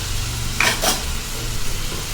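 Eggplant and tomato sautéing in oil in a pan, a soft steady sizzle with a brief stir or scrape near the middle, close and quiet, no voices.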